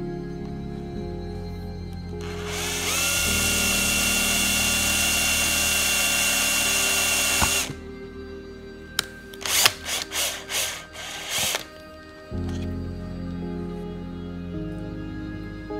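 A power drill bores rivet holes through knife handle scales and the blade of a homemade outdoor knife. It whines loudly and steadily for about five seconds, then a run of short, sharp bursts follows.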